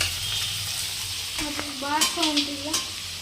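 Onion and garlic frying in a pan, with a steady sizzle throughout and a scraping stir partway through, recorded close up without talk.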